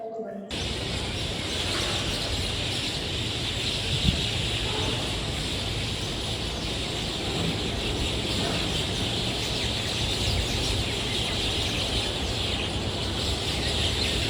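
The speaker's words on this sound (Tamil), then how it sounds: "இங்கே பாருங்கள் பெங்களூர் ஏர்போர்ட்டில் பாருங்கள் எவ்வளோ குருவிங்க" Many sparrows chirping at Bangalore airport, a dense, continuous twittering chorus at moderate level with a steady ambient background, no talking.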